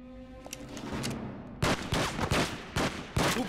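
Gunfire during a boss fight in the video game John Woo Stranglehold: a low rumble gives way to loud, rapid bursts of shots in quick succession, each burst sharp and close, with brief gaps between volleys.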